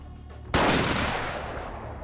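Gunfire from an enemy in the PC game Vampire: The Masquerade – Bloodlines, a single loud, abrupt blast that cuts in from near silence and leaves a long, noisy decay ringing out afterward.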